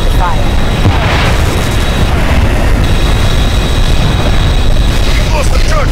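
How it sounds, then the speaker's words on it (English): Mass driver cannons fire rapidly in a space battle video game, a dense, loud, continuous barrage of booms and bursts, with voices speaking under the din. "All mass drivers to continuous rapid fire."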